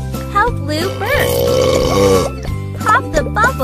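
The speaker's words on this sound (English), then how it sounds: "Help Lou burp." Cartoon baby panda burps from a video game, several croaky, pitched burp sounds in a row, loud and close, mixed with a childlike voice and game music.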